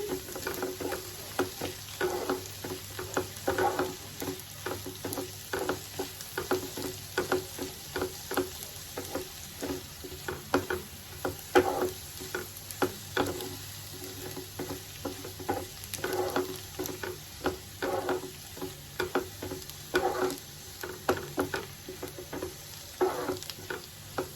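Ginger garlic paste frying in a pan while being stirred, a continuous sizzle broken by rapid, regular spatula scrapes and taps that repeat throughout.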